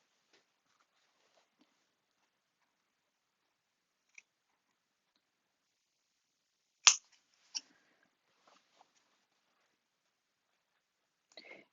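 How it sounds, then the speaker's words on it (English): Sharp scissors cut diagonal lines through fabric for a toiletry bag: two crisp, close snips stand out in an otherwise near-silent room, with a few faint ticks around them. "I'm going to use a really sharp pair of scissors to do the diagonal lines."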